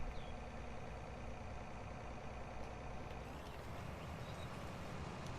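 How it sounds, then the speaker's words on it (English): A John Deere tractor engine running in a farming video game, a steady low diesel rumble with a dense, even drone that holds constant throughout, no talk. "Start the engine."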